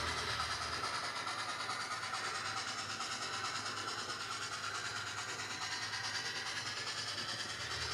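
An HO scale model train on a 1923 Sierra Railway layout backs two loaded cars down a 5% grade toward an unloading trestle, giving a steady, faint rolling rumble with light clickety-clack throughout, with no talk.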